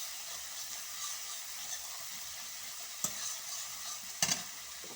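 Garlic and ginger paste fries and is stirred in a pan, giving a steady soft hiss with two brief scraping clatters partway through; no voices.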